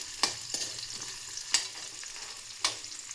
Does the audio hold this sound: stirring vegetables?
yes